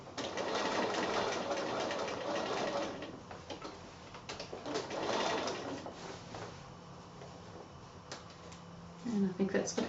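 A sewing machine stitches around a Jasmin Giraffe wall-hanging quilt, a continuous close mechanical whirring that swells and eases, with a voice speaking over it at times.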